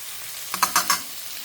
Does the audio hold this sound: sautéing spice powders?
yes